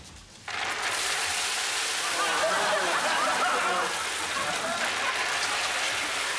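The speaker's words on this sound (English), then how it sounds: "And Neil, the lentils are dripping out all over the stairs." Lentils spill onto stairs in a sudden, sustained, dense patter like heavy rain, starting abruptly and continuing loudly without pause.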